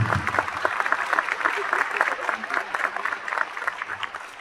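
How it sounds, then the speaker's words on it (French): A convention audience at a Toulouse Game Show actors' panel breaks into sustained, fairly loud applause, a thick wash of clapping that holds for several seconds with faint voices mixed in. "on va l'applaudir"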